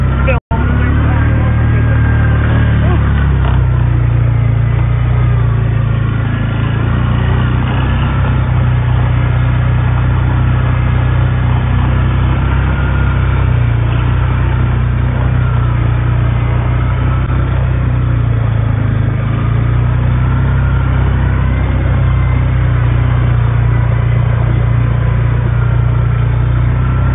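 An ATV drives through snow towing a saucer, its engine droning loud and close throughout with slight shifts in pitch as it moves, with some talk faintly present.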